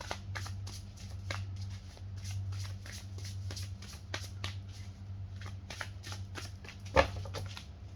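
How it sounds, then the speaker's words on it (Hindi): Tarot cards are shuffled by hand in rapid riffles and soft flicks, close and steady, with one sharper snap near the end and no talk. "Okay, so let's start with shuffling."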